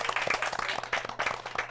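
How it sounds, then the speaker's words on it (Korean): Audience at a Korean book forum talk in Gangnam claps for the event MCs, a short burst of moderately loud applause with uneven, scattered claps throughout. "큰 박수 한번 부탁드릴게요."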